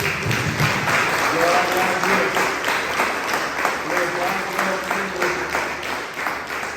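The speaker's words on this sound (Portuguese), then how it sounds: "Aplauda o nome do Senhor." Church congregation applauding during a Portuguese-language sermon: sustained clapping over steady organ or keyboard chords, with voices mixed in under the applause throughout.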